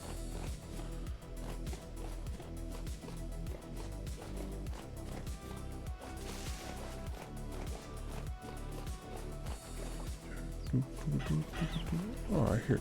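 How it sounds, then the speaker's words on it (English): Chickens cluck in the survival video game Vintage Story, a soft, repeated clucking over a steady rhythmic background pulse that builds slightly louder toward the end. "Oh, I hear chickies."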